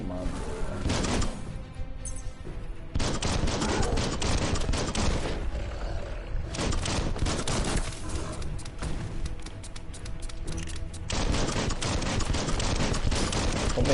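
Rapid gunfire from the Biomutant video game on PS4, dense bursts of shots rattling almost nonstop and loud for the whole stretch, with brief dips between volleys.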